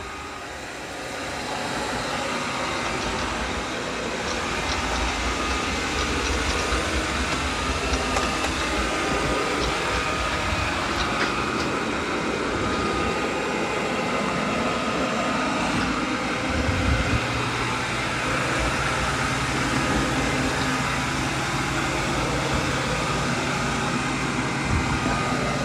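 A Roomba 105 robot vacuum mopping the floor on its second pass gives a steady loud motor whir and rumble, continuous for the whole stretch with a slight shift in tone partway through.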